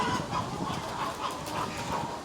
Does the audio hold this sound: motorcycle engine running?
no